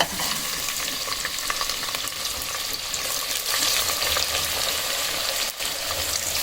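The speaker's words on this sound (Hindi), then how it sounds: "यहाँ पे तेल गर्म हो चुका है। इसमें मैं ये प्याज शामिल करती हूँ।" Steady, close sizzling of onions frying in hot oil, a continuous crackle with occasional stirring.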